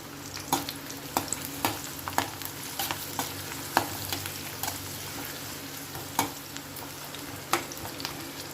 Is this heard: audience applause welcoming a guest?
no